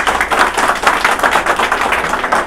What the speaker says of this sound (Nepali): बरु एकपटक डाक्टर लिमलाई जोरदार तालीले स्वागत गर्नु न।